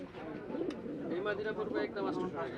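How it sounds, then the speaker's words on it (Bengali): Pigeons coo in the background at a crowded pigeon market in Bangladesh, with steady murmuring crowd noise and voices throughout. "শাওলিয়া হাটে কবুতারের কালেকশন অসংখ্য কবুতার"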